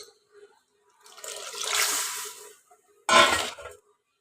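Water is poured into dal as it cooks, a swelling splash lasting over a second, followed after a pause by a second, shorter, louder splash.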